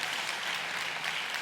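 In a church, a congregation applauds the Christian education teachers: dense, steady clapping from many hands throughout the short stretch.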